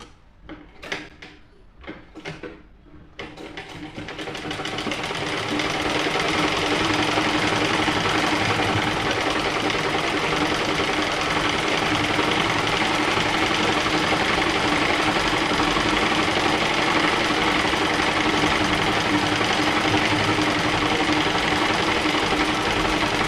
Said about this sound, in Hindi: इसको अंदर की तरफ फोल्ड करके इसके ऊपर से सिलाई लगा देंगे